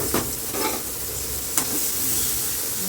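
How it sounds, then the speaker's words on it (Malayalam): Onions and garam masala frying in hot oil, with a steady sizzle and a few stirring scrapes of the pan, close and moderately loud, with no talk. "എണ്ണ ഒഴിച്ച് ഗരം മസാല ഇട്ട്, ഓക്കെ, ഉള്ളി ഇട്ട്"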